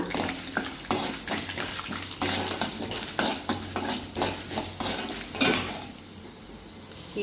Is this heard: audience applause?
no